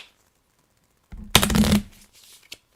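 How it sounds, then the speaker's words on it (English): Playing cards for the Frosthaven board game are shuffled once in a quick, close riffle lasting under a second, followed by a few soft card taps, with no talk. "So we'll just shuffle that up."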